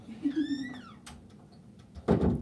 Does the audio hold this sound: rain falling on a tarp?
no